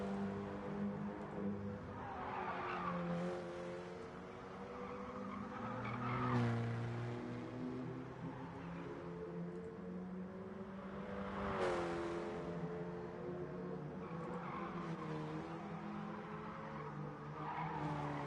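Race cars in Gran Turismo Sport, including a mid-engine rear-wheel-drive car, slide through corners with a steady loud engine drone and long stretches of tire squeal that swell and fade repeatedly.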